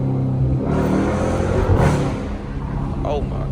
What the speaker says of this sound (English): Y'all a quick little couple downshifts